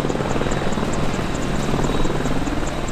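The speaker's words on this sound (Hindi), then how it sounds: "अपाचे हेलीकॉप्टर को उड़ता हुआ टैंक भी कहा जाता" An Apache attack helicopter in flight, its rotor producing a loud, continuous rhythmic thumping and dense engine roar that stays steady and close, with no voices.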